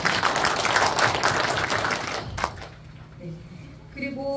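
An audience at a Pocheon city council policy forum applauds a council member, a brief burst of clapping that fades out after a couple of seconds, followed by quieter room sounds and a voice.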